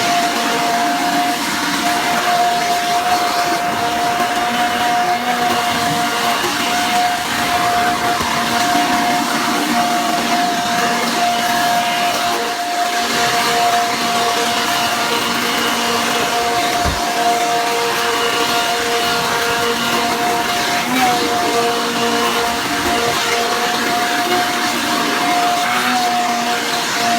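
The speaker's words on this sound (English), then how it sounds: "you need a blower and turn it on and blow it" A leaf blower runs steadily at close range for the whole span, blowing debris out of a car interior with a loud, continuous whooshing roar and a faint tonal whine, with no talk.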